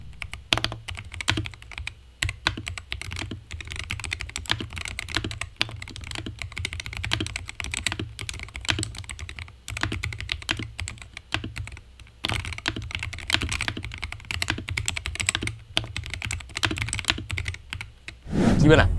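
A gaming mechanical keyboard typed on steadily at close range, a dense run of crisp clacking keystrokes with a few short pauses and a louder burst at the end.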